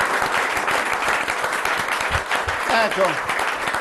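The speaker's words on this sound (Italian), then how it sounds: "continuiamo con l'applauso a loro" Studio audience applause for representatives of the Italian timekeepers' federation at a regional Paralympic sport event, steady dense clapping throughout with a voice speaking over it near the end.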